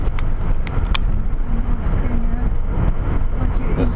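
A car drives straight ahead during a driving lesson, heard from inside as a steady, loud rumble of engine and road noise that holds constant throughout, with faint brief knocks over the top.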